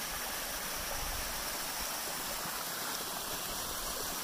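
Cold mountain stream flowing in a steady, broadband rush of water, close and continuous with no pauses or voices.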